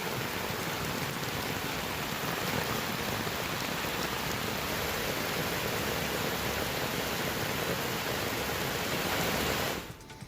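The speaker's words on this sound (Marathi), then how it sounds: "नवी मुंबई शहरात पहाटेपासून जोरदार पाऊस सुरू आहे" Heavy rain pours down steadily over Navi Mumbai at dawn, a dense, unbroken hiss of drops that holds constant for about ten seconds before cutting off abruptly, with no voices.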